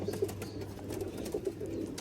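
A pigeon coos softly and repeatedly over a steady background hum, close by, in a brief burst of low throaty calls.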